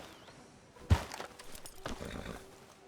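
Horse hooves clopping in Red Dead Redemption 2, arriving at a stop outside a sheriff's office, with a sharp hoof strike near the start followed by softer, irregular steps over a low ambient bed.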